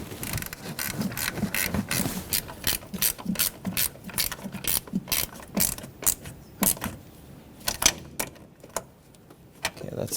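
A ratchet tightens the master cylinder mounting nuts on a 2006-2010 Hyundai Sonata, giving close, rapid bursts of clicking in uneven strokes with short pauses between, and no talking.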